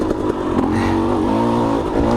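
A 250 dirt bike engine lugs low and steady in second gear, a loud, close, continuous rumbling drone with a slight rising pitch and rough clatter running through it, no voices.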